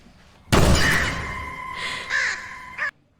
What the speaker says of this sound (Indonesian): tiba-tiba ada burung gagak menghantam kaca jendelanya.